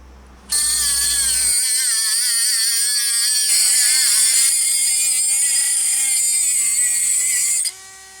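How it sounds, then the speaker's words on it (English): A cheap Aldi rotary tool spinning a cutting wheel through old aluminium plate, a loud, steady high-pitched whine that grinds for about seven seconds and then cuts off, heard alone. "So I've got a bit of old aluminium plate, so what we'll do is try the cutting wheel."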